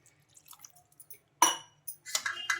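A small splash of water poured into a grinder jar holding green chillies and salt, with faint clicks before it and a brief trickle at the end.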